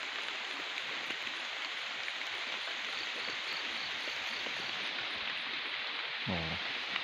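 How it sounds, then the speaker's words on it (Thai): Steady light rain patters with an even hiss on a rubber plantation during tapping, soft and constant, with one brief low knock near the end. "ฝนก็โปรยอยู่อย่างนี้มา"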